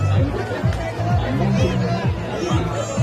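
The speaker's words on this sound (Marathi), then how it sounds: "तुम्ही बघताय जत्रेला किती लाट गर्दी आहे" Crowd chatter fills the Anganewadi fair's agricultural exhibition, a dense babble of many voices close by, with one voice talking prominently over the hubbub throughout.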